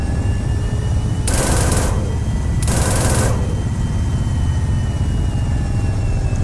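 Two loud bursts of automatic machine gun fire in the Arma 3 Apex military shooter on Tanoa, each lasting about half a second, separated by a short pause over a steady low engine drone.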